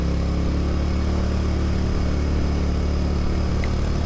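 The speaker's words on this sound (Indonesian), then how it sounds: "Ini kita sudah naik motor lagi setelah tadi kan jalan kaki." Motorcycle riding along a road through the Baturraden forest recreation area, with a steady, close engine drone and hum continuing throughout.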